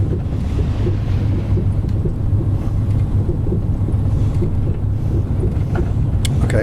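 Inside the cab of a Mercedes-Benz Actros 320 truck in Euro Truck Simulator 2, driving through Iceland on the Promods map, the engine gives a steady, droning low rumble with a windy hiss and no talk.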